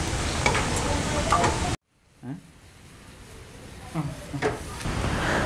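Kanthari chicken frying without oil on a tawa: a loud, dense sizzle stops suddenly, then a quieter hiss carries on with intermittent scraping stirs of the spatula against the pan.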